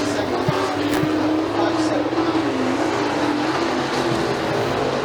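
Pure stock race cars roar around the dirt oval at McKean County Raceway on Hoosier tires, engines droning loudly and steadily down the back straightaway with a crowd-like wash of noise underneath.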